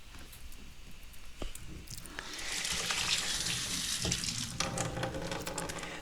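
Hands are wetted in water while making lilikoi humuhumu nigiri sushi, with soft splashing and dripping that swells into a steadier trickle midway and stays close.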